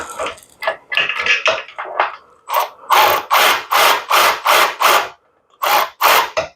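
A quarter-inch drive ratchet with the socket fixed to a swivel clicks in quick, close bursts, with about a dozen sharp rasping strokes in a steady rhythm and brief pauses. No one talks.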